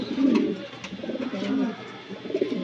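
Racing pigeons with newly hatched squabs in a loft, soft low cooing repeated a few times at close range.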